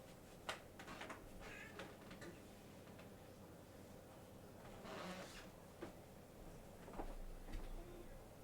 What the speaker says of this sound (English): I hear my cat calling to get in the room.